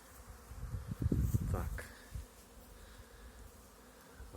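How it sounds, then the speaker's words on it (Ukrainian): Honeybees on a mass winter cleansing flight from hives in an apiary on a mild January day, a faint continuous buzzing hum with a louder burst as bees pass close by. "Гул як серед літа."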